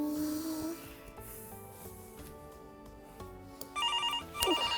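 A telephone rings for a call-in religious question show, several electronic ringtone bursts that turn more insistent toward the end, over a faint tonal background hum with no speech.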